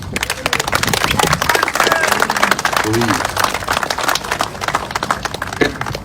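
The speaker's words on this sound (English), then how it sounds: "Give your sponsors a round of applause." Crowd applause and clapping at a drag racing sprint nationals event in Long Beach, a dense steady patter of many hands sustained for several seconds with background babble.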